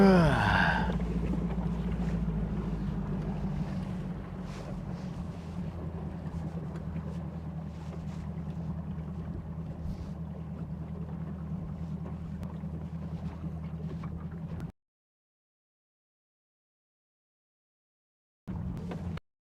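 A boat cruising on Lake Guntersville, a steady low motor hum with wind and water rush, starting loud and then fading slightly, cutting out for a few seconds before resuming briefly.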